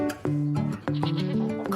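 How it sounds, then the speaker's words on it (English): Saanen goats at the Great Yorkshire Show bleat close by, several loud wavering cries in quick succession, overlapping one another with faint background noise between calls. "Colin and Paul specialise in raising Saanen goats, a breed known for high milk production."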